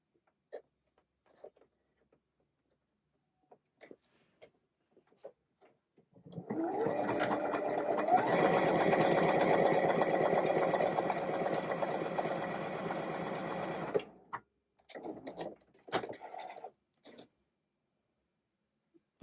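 A sewing machine runs a triple stretch stitch in one continuous whirring burst of about eight seconds, close and steady, framed by quiet handling clicks and taps before and after.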